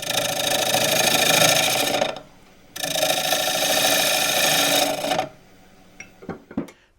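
Wood lathe turning a roughed 10-inch bowl at just under 1,000 rpm, cut with a half-inch bowl gouge: a loud, close buzzing cut in two long passes separated by a brief pause, then a few knocks as the tool lifts away.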